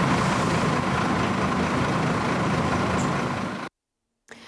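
A mobile crane truck works to clear a roadway after an accident. Its engine makes a steady, loud, broadband rumble that continues for most of the clip, then cuts out into silence, followed by a short burst of noise at the end.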